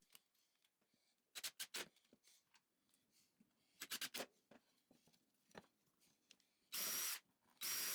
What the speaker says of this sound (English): I'm using a drill press to do this